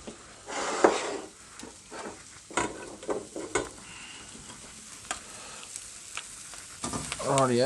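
Rice stir-fried in a pot alongside panko-crumbed chicken, with repeated scraping and clattering stir strokes over a soft continuous sizzle, a louder scrape near the end.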